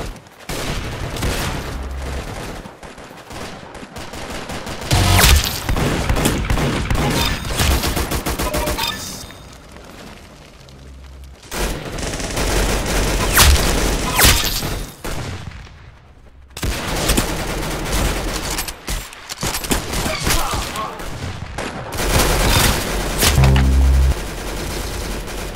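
Rapid gunfire from the Roblox shooter Arsenal on a beach map: loud, dense bursts of automatic fire and single shots run almost continuously, with short lulls around ten and seventeen seconds before the shooting picks up again.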